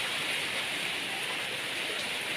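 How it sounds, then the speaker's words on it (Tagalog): Heavy rain falls as a steady, dense hiss with no breaks or drops in level across the short stretch, and no voices are heard. "Buti huminahina na ang ulan, guys."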